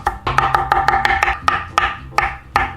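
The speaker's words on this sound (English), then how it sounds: "let's grab some fresh parsley and give it a good chop." A knife chops fresh parsley on a board with a quick run of about a dozen sharp, close taps in an uneven rhythm, with no voices.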